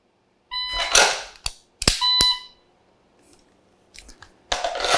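Dry-fire practice with a pistol: two close bursts of holster and handling noise, with sharp clicks and a tonal shot-timer beep, then a quiet pause before another rustling burst at the end.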